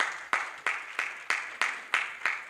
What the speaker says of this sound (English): Let's give him a clap, please.